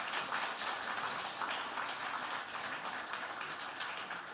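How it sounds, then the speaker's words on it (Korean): A church congregation applauds, a dense, even wash of many hands clapping at a moderate distance, continuing steadily without pause. "우리 박수 쳐주시기 바랍니다."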